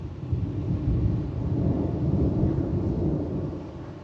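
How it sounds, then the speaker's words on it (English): Thunder rolls in as weather approaches over a residential yard, a deep sustained rumble swelling and fading across about four seconds with no talking. "Did you hear the thunder?"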